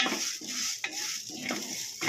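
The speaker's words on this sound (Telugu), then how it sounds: "ధనియాలు కానీ వేసుకొని అవన్నీ మసాలాలు వేసుకొని కొద్దిగా లైట్గా ఫ్రై చేసుకోవాలి" Cumin and coriander seeds sizzle as they are lightly fried in a pan for fish curry, with a spoon stirring and scraping against the metal in repeated strokes, close and steady.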